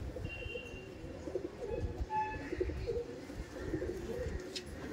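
Giribaj pigeons coo faintly amid a busy pigeon market, low soft murmurs over a steady background hum.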